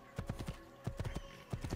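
Horse hooves clip-clop in Assassin's Creed 2, a quick, uneven run of hoofbeats in clusters with a few short pauses, heard alone at moderate loudness.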